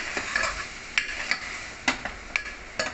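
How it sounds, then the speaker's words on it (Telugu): Vegetable pieces fry in a pan, with a soft sizzle and several sharp scraping stirs of a spoon, spaced a few tenths of a second apart, close and fairly quiet. "ఇలా ముక్కలన్నీ వేసేసుకుని ఒకసారి వేయించేసుకొని"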